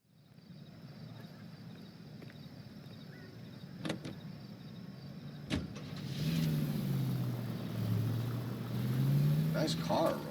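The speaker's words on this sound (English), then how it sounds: "Nice car, Roy." Car engine in the video game L.A. Noire, a low steady idle that swells into revving and acceleration, with a few sharp clicks and some speech mixed in.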